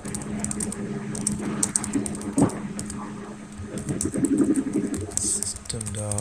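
Keystrokes on a computer keyboard while Java code is typed, a run of close, quick clicks with uneven rhythm, mixed with someone talking.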